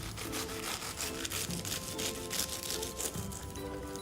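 A knife cutting through the crispy crust of a chicken pastilla, a fairly quiet, steady crackling and scraping crunch running throughout.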